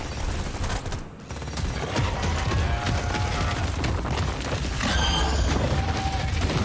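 Minigun fire in the video game Deep Rock Galactic: Survivor, a dense continuous rattle of rapid shots mixed with booms and explosions, loud and unbroken across the span.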